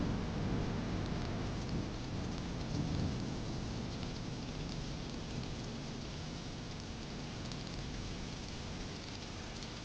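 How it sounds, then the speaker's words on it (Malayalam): A homemade artificial rain system sprays water to beat the summer heat, giving a steady, dense hiss of falling drops without pause for the whole stretch, with no voices. "കൃത്രിമ മഴ വിജയമായപ്പോൾ ഒരുപാട് ആളുകൾ കാർത്തികേയനെ സമീപിച്ചു തുടങ്ങിയിട്ടുണ്ട്."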